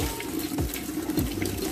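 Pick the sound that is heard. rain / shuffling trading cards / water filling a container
water filling a container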